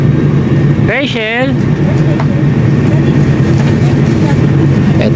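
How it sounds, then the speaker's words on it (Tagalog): The cabin of an airliner in flight fills with a loud, steady low engine roar and air hum. A voice calls out briefly near the start. "nakasakay na kami dito sa aeroplano"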